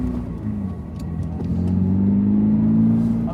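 A stock 2022 Subaru BRZ engine, heard from inside on an icy track lap with traction control off, drones at mid pitch and then climbs into a louder, rising rev, steady and close.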